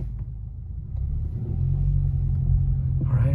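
A 2017 Honda Accord pulls away on a test drive, its engine rumble rising steadily into a low, sustained drone close by, with no talk.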